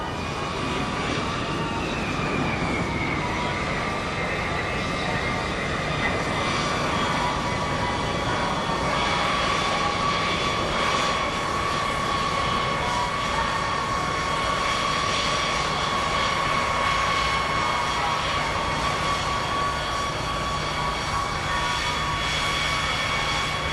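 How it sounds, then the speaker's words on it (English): B-52 bomber jet engines run steadily on an airfield before taxiing, a loud, constant broadband roar with high whining tones that holds for the whole stretch without a break. "we get ready to taxi the aircraft out to the Hammerhead"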